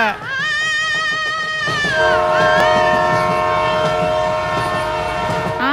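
A passenger train rumbles along steadily and loudly while its horn blares in long, sustained harmonic blasts close by.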